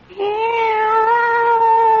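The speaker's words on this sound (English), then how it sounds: "Teeth are bared, claws are unsheathed. Fur flies. It's a cat fight." Cats fighting let out one long, loud, sustained caterwaul, a rising wail that holds steady and strained for about two seconds, close and alone.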